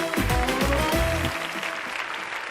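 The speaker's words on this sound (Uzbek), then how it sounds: "bizni qo'llab-quvvatlayotgan keng makonga bitta olqish so'rayman" Audience applause at a live Uzbek stage show, a broad wash of clapping across the whole stretch, loud at first and thinning slightly toward the end, with some low musical tones underneath early on.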